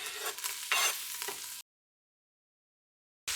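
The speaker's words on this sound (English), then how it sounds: "Just going to let these saute up a bit." Chopped celery, green bell pepper, jalapeno and garlic sauté in a pan with a steady close sizzle and bursts of stirring. The sound cuts to dead silence after about a second and a half, then returns briefly at the end.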